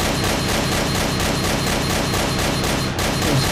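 Continuous rapid gunfire in Garry's Mod during a Half-Life 2 playthrough, a loud, dense stream of shots with barely a gap, one brief dip near the end.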